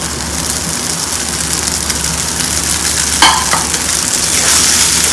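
Sago pearls tipped into a reddish spiced mixture frying in a pan and stirred through, giving a steady close sizzle with a brief scraping rattle partway through.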